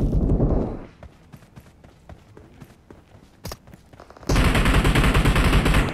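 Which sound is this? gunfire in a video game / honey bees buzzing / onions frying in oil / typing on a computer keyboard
gunfire in a video game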